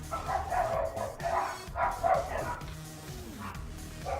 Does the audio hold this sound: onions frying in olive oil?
no